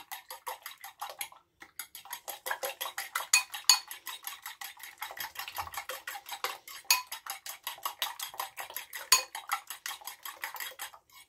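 Eggs seasoned with salt, pepper and oregano are beaten briskly in a bowl, making a rapid, steady run of light clicking taps that pauses briefly near the start, close and fairly quiet, with no talking.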